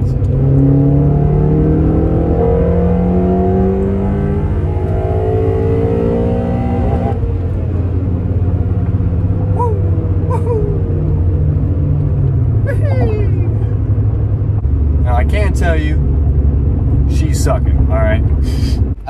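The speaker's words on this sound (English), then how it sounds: "Now, I can tell you the intake VTEC does work. Listen to these beautiful sounds." A 2013 Honda Civic Si (FG4) with intake VTEC, its engine revving through rising and falling pitch sweeps, loud and steady, ending in a lower sustained drone as it settles.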